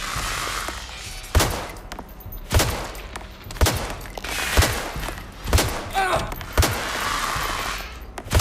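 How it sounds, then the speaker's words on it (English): Shotgun blasts in a video game boom out about seven times at roughly one-second intervals. Each is a loud, sharp report with a short tail, over a busy game backdrop. "Shotgun."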